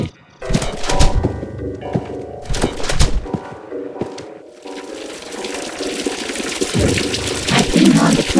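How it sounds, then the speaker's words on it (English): In an animated short, a cartoon character pees into a toilet: a steady gushing stream of liquid splashes into water, loud and close, over a musical background. "I pee on the toilet."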